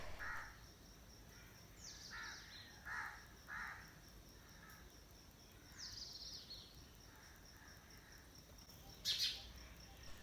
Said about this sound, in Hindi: सुबह के वक्त परिंदों की आवाज़ें इतनी अच्छी लगती हैं, परिंदे चहचहा रहे होते हैं